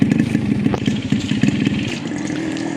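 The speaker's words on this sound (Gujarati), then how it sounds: "આ બાઇક છે." A motorcycle engine running close by, a steady mid-pitched throbbing hum that holds evenly throughout with slight rattling.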